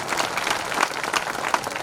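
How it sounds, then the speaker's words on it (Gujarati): An audience breaks into brisk applause as a family is welcomed onto the stage at a religious gathering, with dense clapping and a few sharper claps rising above the crowd over about two seconds. "જોરદાર તાળીથી આ પરિવારને વધારી દો"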